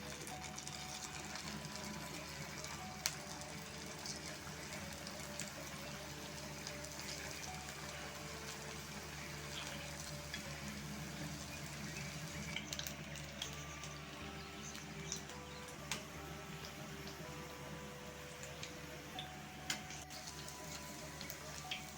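Maggi balls frying in hot oil, a steady soft sizzle with fine crackling ticks running evenly throughout, quiet and continuous with no talking.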